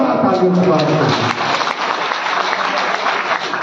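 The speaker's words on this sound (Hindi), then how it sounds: "जोरदार तालियों से स्वागत है" An auditorium audience at a BJP political gathering in Madhya Pradesh claps loudly and continuously, with a voice speaking over the applause.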